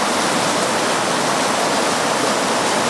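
Fast-flowing river water at a winter trout spot, a steady loud broadband rush and roar close by, unbroken for the whole stretch with no voices.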